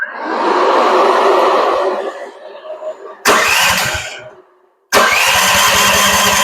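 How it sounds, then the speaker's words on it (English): A Chinese mini skid steer's engine starts and runs loud, its exhaust echoing off the frame with a harsh, dirt-bike-like bark, cutting out briefly twice before roaring back up close. "So the exhaust just runs inside the frame and echoes off the frame. It's loud as can be."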